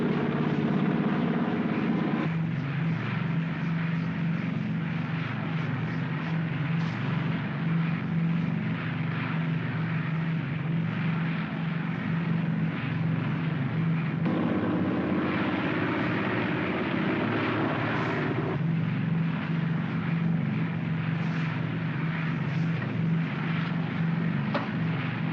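An airplane descends on a glide path toward landing in a 1950 film, a steady, loud engine drone that holds throughout with slight shifts in pitch and no talk over it.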